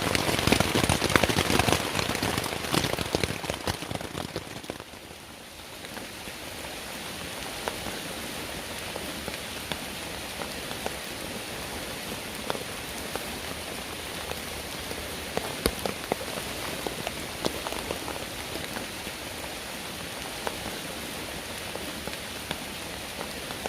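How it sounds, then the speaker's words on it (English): Heavy rain drums steadily on a tent in deep woods, a dense, continuous patter close overhead with scattered louder drops and no voices. "it has rained and rained and rained. It hasn't stopped at all."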